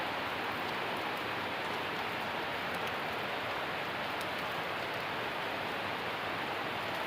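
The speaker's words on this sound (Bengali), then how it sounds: "এখন একটু বৃষ্টির জোরে জোরে হচ্ছে দেখতে পাচ্ছেন" Steady, dense rain hisses without a break, a uniform wash of falling water at moderate loudness with no voices or other sounds.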